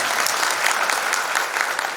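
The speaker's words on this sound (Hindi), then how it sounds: "एक बार चाहेंगे कि अपने लिए जोरदार तालियां बजाएं" Loud, dense applause from young participants at a youth camp gathering in Shantikunj, steady and continuous for the whole stretch.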